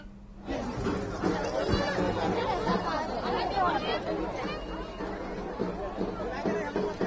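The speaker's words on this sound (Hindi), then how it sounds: "क्या छठ घाटों में हर साल की तरह इस बार भी भीड़ है?" Crowd of devotees gathered at a Chhath ghat pond in Ranchi, a dense, continuous babble of many voices close by, steady throughout with no single voice standing out.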